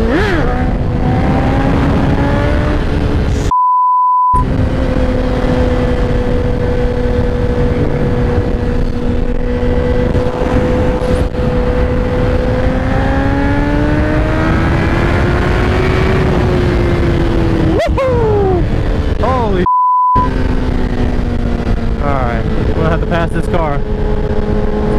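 A 2017 Honda CBR1000RR motorcycle pulls hard through the gears on a test ride, the engine note climbing, dropping at shifts and climbing again, with loud constant wind rush and a few voices over it.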